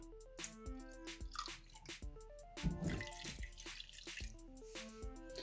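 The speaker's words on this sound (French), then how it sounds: "Une fois que c'est fait, je viens ajouter l'eau." Water trickles and drips close up into shower gel in a small container for clear slime, a quiet run of irregular splashes and droplets with no voices.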